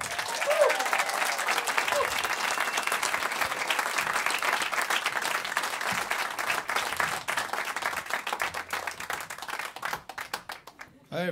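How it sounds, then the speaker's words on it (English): An audience in a small live-session lounge applauds the band with brisk, scattered claps and cheers that thin into individual hand claps near the end. "Please, a smattering of applause for our new best friends"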